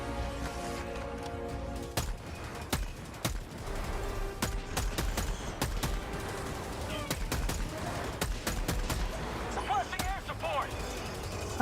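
Rifle fire from Helldivers 2, a steady run of sharp single shots spaced irregularly over the battle ambience, some clustered in quick pairs, with a voice talking throughout.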